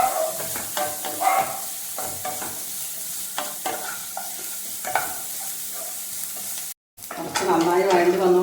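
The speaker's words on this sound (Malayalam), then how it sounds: "കുറച്ച് നന്നായി വഴണ്ടി വന്നുകൊണ്ടിരിക്കുന്നുണ്ട്." Masala vegetables sautéing in a pan for wheat dosa, with a continuous close sizzle and repeated scraping stir strokes of a spatula, and a louder hissing burst near the end.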